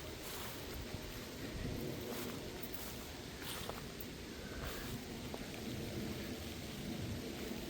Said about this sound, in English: I don't hate the rain